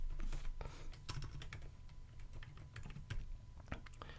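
Steady, close typing on a computer keyboard during an Android app development lesson in Kotlin, with irregular clicks and keystrokes running throughout, no talk.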